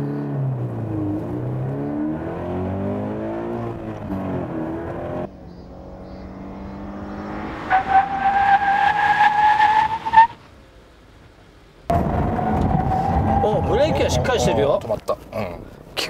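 A sports car brakes hard from speed during a comparison drive of an Abarth 124 Spider, Toyota 86 and Mazda Roadster, the engine note falling and a rising tire squeal building. Then silence, with people talking in the cabin before and after.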